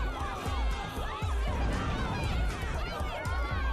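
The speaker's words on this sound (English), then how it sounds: "And see, the Monokuma kids are cheering." Crowd of Monokuma kids in the video game Ultra Despair Girls cheering and chattering in a dense, continuous wash of many voices, with steady footfall-like thumps and game background noise throughout.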